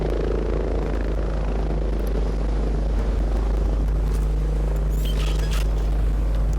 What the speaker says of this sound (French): Alors, est-ce que l'hélico est là?